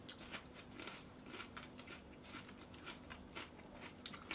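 Someone bites into and chews a crunchy, fruity Brazilian Starfish chilli pepper (Capsicum baccatum), making quiet, close, repeated wet crunching bursts with no talking.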